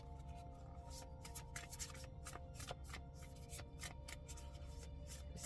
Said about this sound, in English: I'm gonna pull one of each of these cards